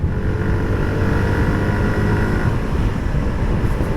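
A Suzuki Gixxer 150 motorcycle engine pulls hard in fourth gear, a steady loud drone with rushing wind noise, recorded from the bike while riding.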